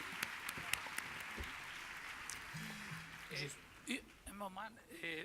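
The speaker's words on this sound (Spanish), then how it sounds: "¿Les podemos aplaudir?" Conference audience at a closing ceremony claps for the translators, a moderate wash of applause with a few sharp claps near the start, tapering as a voice begins speaking over it.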